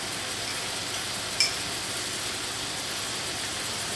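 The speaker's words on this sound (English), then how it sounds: "I'm going to let these sizzle until they start to take on a brown color." A steady, gentle sizzle of cabbage and bacon frying in a cast iron pan, even and continuous, with a faint clink near the start.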